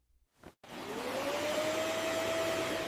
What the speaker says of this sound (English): I vacuum the living room on Sundays.